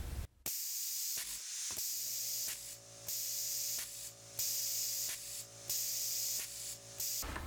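Compressed air hisses out of an opened pneumatic valve on a cork-stuffer rig in loud repeated bursts, with a steady mechanical hum running underneath.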